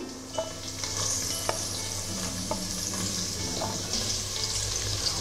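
Sliced onions go into a pan for Kerala-style Kuttanadan duck curry, frying with a steady close sizzle and a few sharp clinks of stirring scattered through, with no one talking.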